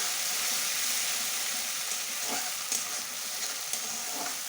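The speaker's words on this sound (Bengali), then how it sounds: "ভালো করে কষিয়ে নেবো" Steady broadband sizzle of a masala being sautéed down in a pan for lau pata paturi (bottle gourd leaf parcels), with a few soft scrapes of stirring over the constant hiss.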